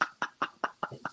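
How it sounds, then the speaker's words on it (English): A small pet bird somewhere in the room gives six quick, evenly spaced chirping calls, faint and a little distant. "I can hear your little bird in the background."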